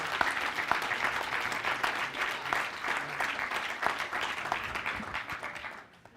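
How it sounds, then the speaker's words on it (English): Audience applause at the finals of a wood-themed Ukraine rebuilding hackathon, a dense, steady clapping that carries on for several seconds and then tapers off at the end. "Big round of applause."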